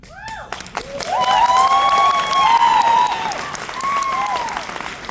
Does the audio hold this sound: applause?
yes